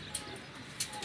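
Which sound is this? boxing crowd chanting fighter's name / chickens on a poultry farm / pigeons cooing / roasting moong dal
pigeons cooing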